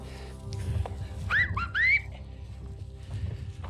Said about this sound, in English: I'm whistling to let the coyotes know, or any critters that might be hanging out in the valley here, that we're coming